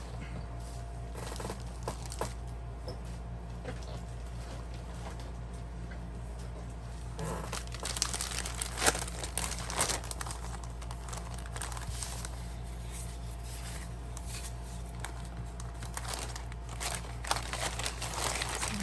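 Small plastic bags crinkle and rustle as they are handled close up during papercraft page-kit assembly, with steady soft crackling that grows busier and louder partway through, with no talking.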